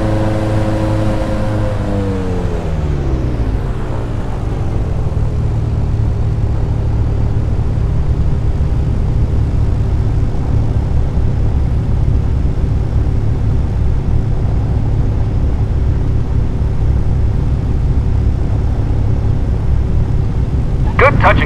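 An aircraft in Flight Simulator X makes a touch and go during a Red Bull time trial. Its engine tone sweeps downward as power eases, then settles into a loud, steady drone that holds to the end.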